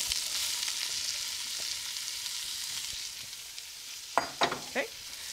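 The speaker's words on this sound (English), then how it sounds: "Let's take our veggies and put it into our Dutch oven." Vegetables in a Dutch oven give off a steady bright sizzle, then a few sharp spoon scrapes against the pot near the end. The sound is close and no one speaks.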